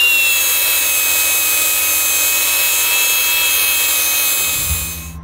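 An engine block being ground down with a power grinder, a loud continuous high-pitched abrasive whine held steady for several seconds before spinning down at the end.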